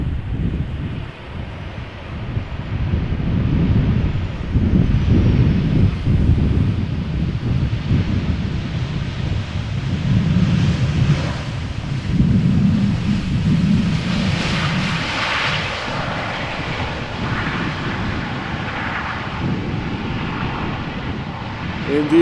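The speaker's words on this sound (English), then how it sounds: "This is KLM flight 1598, Boeing 737-800, arriving from Rome after 2 hours and 3 minutes," A KLM Boeing 737-800 arriving from Rome touches down at Amsterdam Schiphol, a loud sustained engine roar with rumbling low end and wind noise, swelling and easing over twenty seconds.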